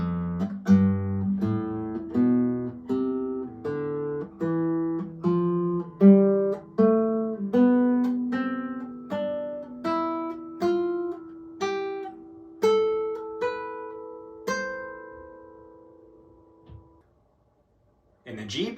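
A plucked guitar plays a steady ascending scale, about sixteen single notes each ringing briefly, rising in pitch before the playing stops.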